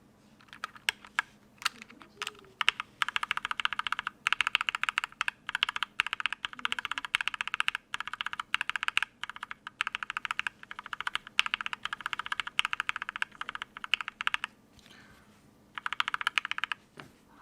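Typing on lubed H1 linear mechanical keyboard switches produces bursts of rapid, crisp keystroke clacks, close and fairly loud, separated by short pauses, with no voice over them.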